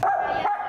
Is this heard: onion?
no